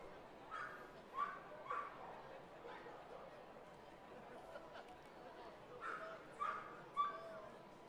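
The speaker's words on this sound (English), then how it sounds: "ringing a doorbell sound effect to get the dogs going" Dogs bark in short bursts at a ballpark after a doorbell sound effect, a few yips and barks spaced apart, fairly distant under low crowd murmur.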